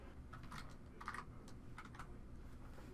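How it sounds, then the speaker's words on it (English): Fingers type on a computer keyboard while entering a product ID into sales quote software, a steady run of soft, close key clicks and taps in a quiet room. "First, I'm going to type in a product ID, and I'll press tab to move to the quantity field."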